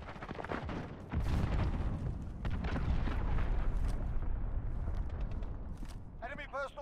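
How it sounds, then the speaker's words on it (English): An allied cruise missile strike in Modern Warfare lands as a deep rumbling explosion and rolling booms that swell after the first second and sustain, with scattered gunshots and a radio voice chirping near the end. "Allied cruise missile away."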